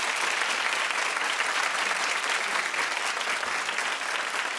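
The studio audience of the talk show The View claps in a steady, dense round of applause that carries evenly through the whole stretch without any talk.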